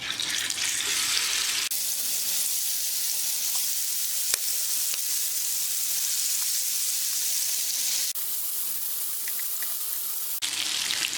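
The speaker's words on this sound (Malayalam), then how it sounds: "നമുക്ക് ചിക്കൻ ഒന്ന് പൊരിച്ചെടുക്കാം" Steady loud sizzling of chicken frying in hot oil, with a couple of sharp clicks; no talking.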